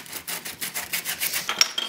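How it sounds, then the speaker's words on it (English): Sandpaper rubbed by hand on a plastic 3D printer part, quick rhythmic back-and-forth rasping strokes, close and fairly loud, about eight strokes in a row. "I'm going to grab some sandpaper."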